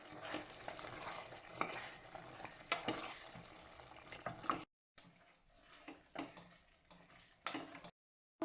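Chicken biryani masala being stirred in a pot, a steady scraping sizzle with intermittent spoon strokes and two brief drops to silence.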